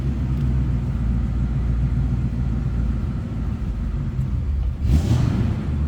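A cold 1965 Ford Mustang convertible engine idles while warming up, a steady low rumble close by with a brief louder surge near the end.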